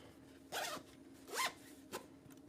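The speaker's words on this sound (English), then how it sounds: "Zip it up for the last time." A zipper on a newly sewn bag is pulled in three quick strokes, two longer rasping zips followed by a short final one, close and fairly quiet in a still room.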